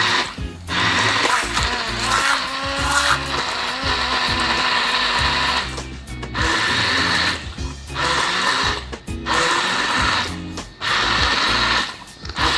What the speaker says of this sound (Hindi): और इसको हम जो है ग्राइंड कर लेंगे।